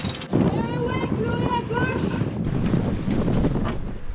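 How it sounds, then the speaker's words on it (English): A sailboat running downwind through wind and swell on a South Pacific crossing, with heavy wind buffeting the microphone and rushing water, loud and continuous. A voice speaks over it. "Our wind right on our butt with swell on our butt, so we are hauling ass at this point."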